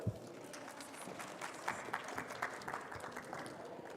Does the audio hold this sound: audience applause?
yes